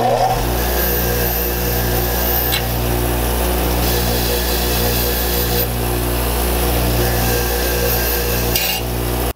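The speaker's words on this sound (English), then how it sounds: "Now I'll just clean it up on my wire brush." A bench wire brush wheel runs at a steady motor hum while a broken thread tap made of hard metal is cleaned on it, with brief bursts of harsher scratching contact over the constant whir.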